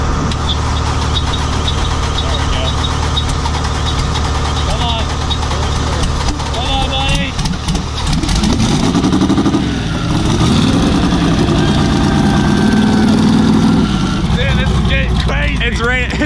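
A truck engine idles steadily outdoors in falling snow at the PRI 2018 trade show, a continuous low rumble running throughout while several people talk over it.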